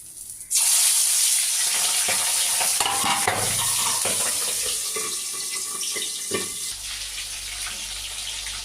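A loud, sudden sizzle bursts out as gandharaj-flavoured boal fish hits hot oil on low heat, then settles into a steady crackling fry with occasional scrapes.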